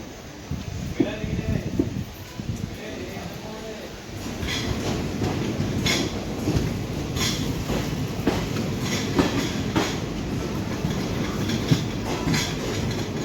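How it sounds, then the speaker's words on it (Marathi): The Tapovan Express pulls out of Rotegaon station, its wheels clattering and rumbling in a steady, building rhythm up close, with a voice talking over the train noise. "रोटेगाव स्टेशनवरून निघण्यासाठी तयार आहे आपली तपोवन एक्सप्रेस"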